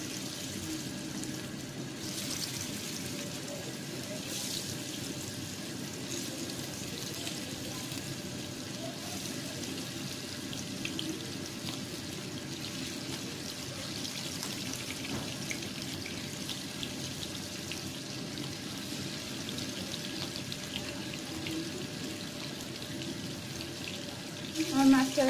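Fish frying in hot oil in a frying pan in a Bangladeshi home kitchen, giving a steady, even sizzle that runs unbroken throughout at moderate level.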